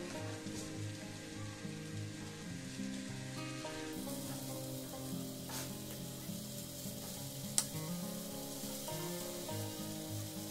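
Vegetable chow mein noodles stir-fried in a pan, a steady crackling sizzle with soft stirring scrapes and one sharp clack, close and continuous with no talk.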